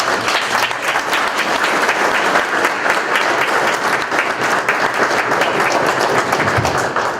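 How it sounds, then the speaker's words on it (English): An audience at a police memorial dedication breaks into loud, sustained applause, a thick wash of many hands clapping evenly from start to finish. "So round of applause for them"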